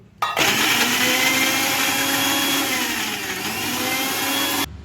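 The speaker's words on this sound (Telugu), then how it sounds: "అల్లం వెల్లుల్లి పేస్ట్ పట్టేసుకుందాం" A mixer grinder whirs loudly and steadily for several seconds grinding ginger garlic paste, starting abruptly and cutting off at the end, with no talking.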